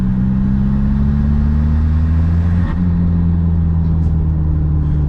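Turbo diesel engine in a Mk3 MR2 pulling steadily at low revs around 2,000 RPM, a deep, droning in-cabin rumble with a steady hum that holds level for the whole stretch.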